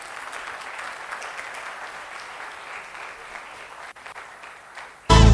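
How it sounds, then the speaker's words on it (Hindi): Audience at an orientation programme applauding steadily, a dense even wash of clapping from a crowd held at moderate level throughout, ending with a sudden loud burst at the very end. "जोर से ताली बजाओ।"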